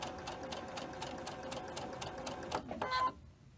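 A freshly cleaned sewing machine runs a regular standard straight stitch at length 2.5 through quilt-block fabric, with a rapid needle patter that stops abruptly near the end, quiet and close.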